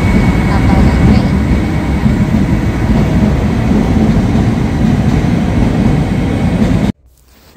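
A train passes close by in a Netherlands city with a loud, steady rumbling roar that lasts several seconds, then cuts off abruptly.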